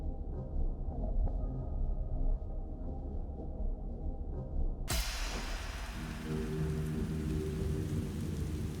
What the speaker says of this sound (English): I love Rainy ASMR.